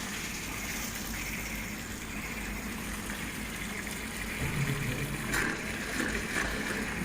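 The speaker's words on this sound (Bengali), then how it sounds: "জলটা আমি চালিয়ে দিয়েছি, জলটা আপনার ঢুকছে।" Water runs steadily into the drain line of a blocked Indian-style squat toilet, a continuous gushing wash with a slight swell near the end and no voices.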